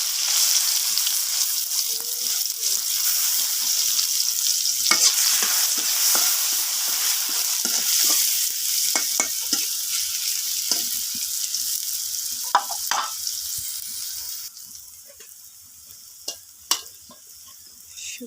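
Onions sizzling and frying in hot oil left over from frying fish, a steady loud crackle with intermittent stirring clicks and scrapes, fading quieter toward the end.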